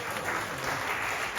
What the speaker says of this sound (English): I can only solemnly clap